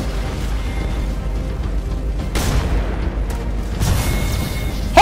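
In a video game lobby, a large group of charge rifles fire together. Deep booming blasts rumble under continuous battle noise, with sharper bursts near the middle and again near the end.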